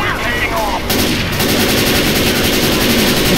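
Sustained rapid gunfire in Left 4 Dead 2, a dense continuous stream of loud shots with a voice speaking over the start.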